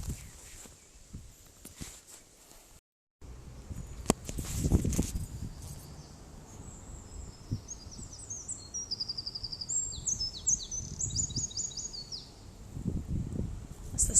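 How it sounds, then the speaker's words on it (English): A blackbird sings from rocks beneath Nottingham castle, its phrases distant and fairly faint over outdoor rustling and a few footstep-like sounds. "That's the sound of a little blackbird who's nestled in the"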